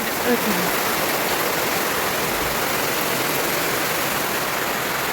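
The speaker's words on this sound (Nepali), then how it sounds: "पानी पऱ्यो" Heavy monsoon rain pours down in the hills of Mirik, Darjeeling, in a dense, unbroken hiss that stays constant from start to finish.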